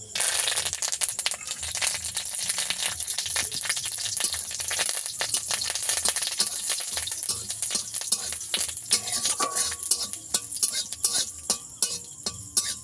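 Mustard seeds and curry leaves fry in a hot pan with a dense, continuous sizzle, with sharp crackling pops that grow more frequent toward the end.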